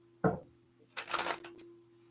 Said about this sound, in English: I'm shuffling and the cards are not wanting to go together